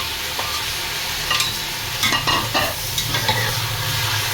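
Pork meat searing in a pot for sinigang, a loud, steady sizzle close up with a few scraping stirs partway through and no talk.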